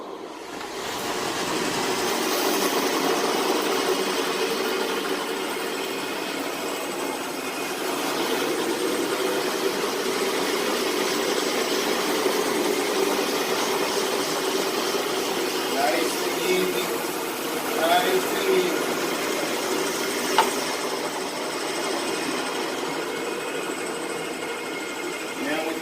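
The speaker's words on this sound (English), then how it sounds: "tonight we're going to first show you the wide trap. That's the Rotovac wide trap." A Rotovac wide-track carpet cleaning machine with a 24-inch pad and two 12-inch cylinders runs with a continuous mechanical drone on a commercial carpet job. Someone talks over it throughout.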